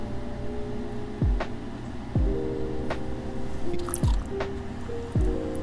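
Thick candle mixture with a pancake-batter consistency is poured into a sneaker-shaped mold, giving four soft, wet plops at roughly one-second intervals over a low background hum.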